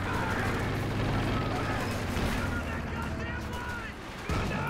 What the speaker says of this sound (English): Stern Pioneer's getting cut down by those Vet 3 riflemen.